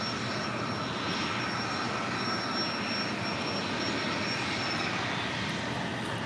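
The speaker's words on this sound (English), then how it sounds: "This Embraer Legacy 650E coming in from Van Nuys." An Embraer Legacy 650E business jet arrives at LAX from Van Nuys, a steady, even engine roar filling the whole stretch with a faint high whine on top, continuous and unbroken with no talk.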